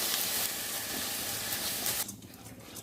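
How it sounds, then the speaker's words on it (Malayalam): Washed rice is dry-roasted in a hot pan over a medium flame and stirred constantly for a Kerala rice-ball sweet. A steady, loud hiss and sizzle carries on, then drops off sharply after about two seconds. "ഇനി ഇത് നല്ല പോലെ ഒന്ന് വറുത്തെടുക്കാം"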